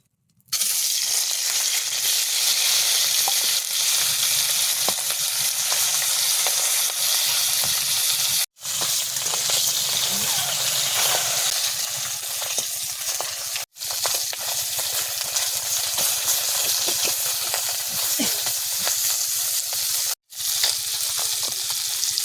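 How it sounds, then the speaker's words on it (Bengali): Rohu fish heads fry in hot oil with a loud, dense, continuous sizzle and crackle, broken by a few abrupt brief cuts, with faint stirring scrapes underneath. "রুই মাছের মাথাটা ভেজে নিচ্ছি।"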